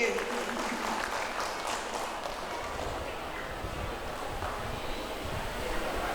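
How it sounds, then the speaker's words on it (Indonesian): A crowd at the opening ceremony of a charity health check-up event claps steadily in a dense, sustained roar of applause that fills the space, fairly distant and even throughout. "tepuk tangan sekali lagi"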